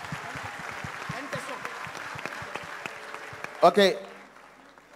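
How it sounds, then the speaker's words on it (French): A church congregation applauding, a steady ripple of clapping under a man's speech that fades away. "On acclame le Seigneur."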